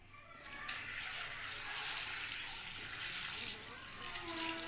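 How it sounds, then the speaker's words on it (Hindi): Water pours steadily into a pot, a soft hissing splash that holds for several seconds, fairly quiet. "बॉयल करने के लिए मैं पानी डालता हूँ इसमें।"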